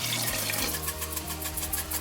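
Four cups of vegetable broth pour steadily into a pot of vegetarian gumbo, a continuous close liquid splash and gurgle with no talking.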